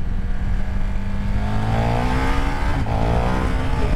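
A KTM 1390 Super Duke R Evo 2024 motorcycle accelerating hard on a street, its engine note climbing steadily in pitch, dipping at a gear change, then rising again, loud and close.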